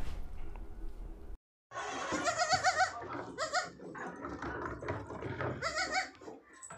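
Young goat kids bleat repeatedly and fairly loudly on a goat farm, their wavering cries overlapping one another against low background noise.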